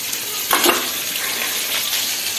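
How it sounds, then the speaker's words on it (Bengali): Bata fish fries in a pan with a loud, steady close-up hiss and one brief sharper crackle near the start. "এই যে মাছ ভাজা বসিয়ে দিয়েছি দু রকম মাছ হবে বাটা মাছ"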